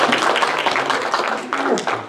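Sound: congregation clapping hands in church

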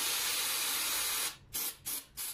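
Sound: spraying an aerosol spray paint can

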